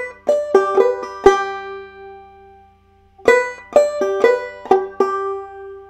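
Two bursts of clawhammer banjo playing a measure of Snowdrop, each a rapid cluster of sharp plucked notes and brush strums, separated by a ringing pause, close and solo.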